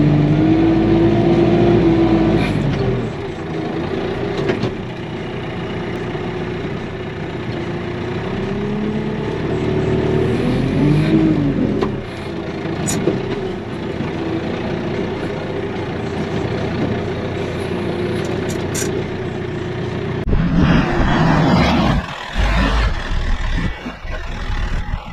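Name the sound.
KIOTI RX7320 tractor engine in four-wheel drive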